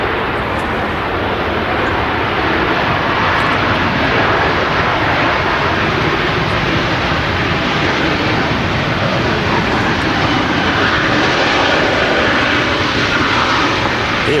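A Ryanair Boeing airliner in Dreamliner Special livery roars steadily at Manchester Airport, a loud, close, continuous broadband jet rumble filling the whole stretch without letup.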